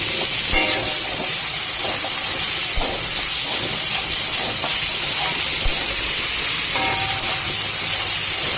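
Boiled local greens frying in oil in a pan give off a loud, steady sizzling hiss, broken by a few scattered clicks and pops.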